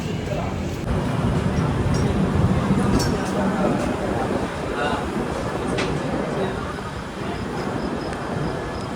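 The 12311 Netaji Express, a train with new LHB coaches, halts at a station after rain, a continuous broad rumble of train and platform noise under people talking nearby.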